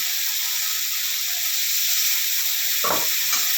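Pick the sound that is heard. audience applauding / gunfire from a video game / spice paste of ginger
spice paste of ginger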